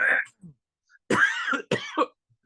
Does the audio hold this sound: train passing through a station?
no